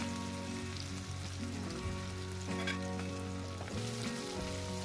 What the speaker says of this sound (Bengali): এবার কুচনো পেঁয়াজ দিয়ে দিলাম তেলের মধ্যে।